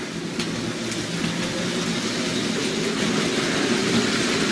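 Hornby R2249 8F OO gauge model freight train running steadily along its track, a continuous close rolling rumble with faint clicking, no voices.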